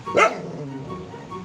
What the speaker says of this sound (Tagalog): Ayan, tinatahulan na ako.